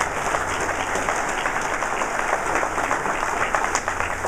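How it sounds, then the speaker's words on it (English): Steady applause from employees in a room at a press conference, a continuous patter of many hands clapping at moderate volume with no talk over it. "Nice to have all my employees applauding for me."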